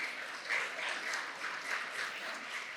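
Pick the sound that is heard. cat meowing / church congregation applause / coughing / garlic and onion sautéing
church congregation applause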